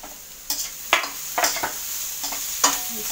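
Sliced onion, ginger and green chili frying for poha, a soft continuous sizzle broken by several sharp scrapes and taps of a spatula stirring the pan, close and with no talking.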